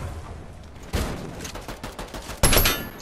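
Turret firing in the Fortnite video game, bursts of rapid automatic gunfire with two sharp louder volleys, close and harsh amid other game noise.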